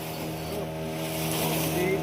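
A boat motors far out at sea off Vengurla and Nivati beach, its engine holding a steady tonal hum under wind and water rush, close and fairly loud throughout, with faint voices in the background.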